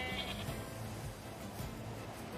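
Sheep bleat in NieR Replicant, a couple of fairly close calls over quiet game ambience.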